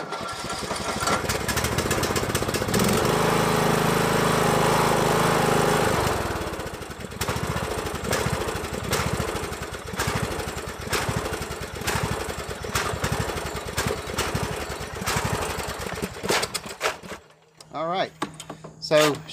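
A Troy-Bilt Pony 15.5 HP riding mower engine, just fitted with a new carburetor, starts and runs steadily and loudly up close, with clicks and handling noises around it and a voice talking near the end.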